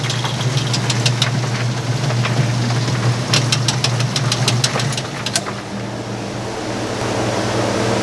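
A Speed Queen top-loading washer with a worn, failing belt hums through its spin cycle, with a steady low drone and bursts of rapid ticking and slapping that drop off toward the end.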